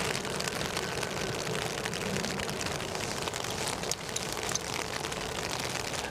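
Steady rain falls at Edinburgh Airport, a dense continuous hiss of drops on surfaces with a faint aircraft rumble underneath and no talking.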